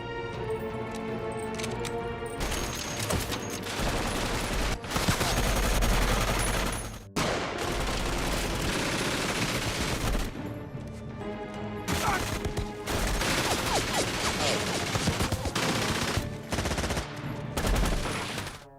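Automatic weapon gunfire in a World War II film battle against Nazi guards, dense rapid bursts of shots running almost continuously over loud orchestral music and crashing effects.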